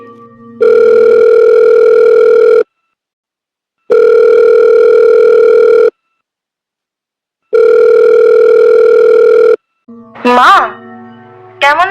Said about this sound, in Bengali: নিজের মাকে ফোন করলো সে